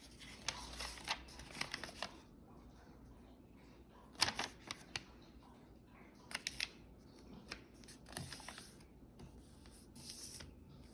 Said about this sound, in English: we can flip it over and fold it in half